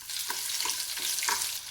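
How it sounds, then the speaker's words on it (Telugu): Crushed garlic cloves hit hot tempering oil for a coconut chutney, giving a steady close sizzle with a few soft stirring scrapes, no talking. "ఇప్పుడు ఈ పోపులోకి ఇలా చితగొట్టుకున్న వెల్లిపాయలని వేసేసుకుందాం."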